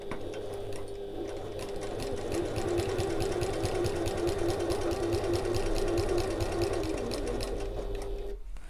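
Sewing machine back stitching near the end of a seam while making an evening bag, a steady close whirring hum with fast regular needle ticks running almost continuously, ending abruptly.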